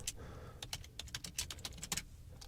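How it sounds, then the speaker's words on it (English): Quick, uneven bursts of key clicks from someone typing on a computer keyboard while filling in a WordPress profile bio, close and fairly quiet, with no talking. "Here you can write a short bio about yourself."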